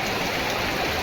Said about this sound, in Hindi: आज हमारे छोटे जुलोनिया गांव में बहुत तेज़ बारिश हो रही है